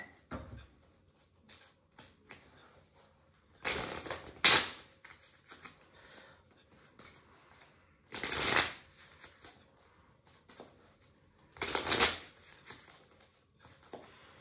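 A deck of cards is shuffled for a card reading in three separate bursts of quick riffling flutter, fairly close and crisp, with quiet handling noises between them.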